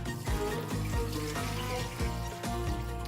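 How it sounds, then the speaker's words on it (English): Water poured out of a bowl of rice during rinsing for onion and pea pilau, a close, steady splashing gush with a few brief surges, heard alone. "pour the water out"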